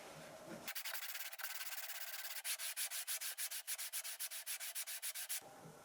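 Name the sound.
sanding wooden cutting board on a piece of glass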